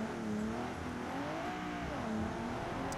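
Dodge Charger muscle car engine revving in the BeamNG driving game, a steady loud engine drone that rises and falls in pitch as the throttle swells, with no voices over it.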